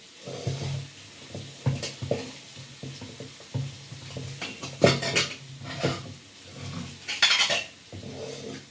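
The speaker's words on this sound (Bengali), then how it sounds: "মানে কুকার থেকে ট্রান্সফার করে দেবো কড়াইতে।" Cooked chickpeas tipped from a pressure cooker into a wok, with irregular metallic clanks and scrapes of pots and spoon over a light sizzle of oil underneath, fairly close, no talking.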